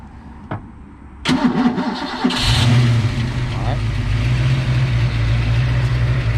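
Ford Fox-body Mustang with a hot-start fault, a short crank burst then the engine catching into a loud, steady low rumble that holds through the rest.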